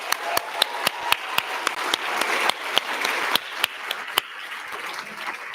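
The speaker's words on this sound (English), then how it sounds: "Let's give him one more round of applause" Audience applause for an award winner at a live skills awards ceremony: a room of clapping hands with distinct sharp claps over a dense patter, fading toward the end.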